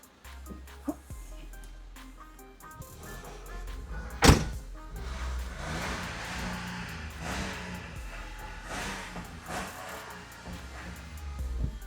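The engine of a 2008 Smart Fortwo Passion, which has white exhaust smoke, revs as the gas is pressed. A thunk comes first, then a sustained rise in engine noise holds at moderate distance for several seconds.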